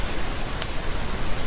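Steady rainfall hisses as a dense, even wash of drops on surfaces, continuous and fairly loud with one brief sharper tick partway through.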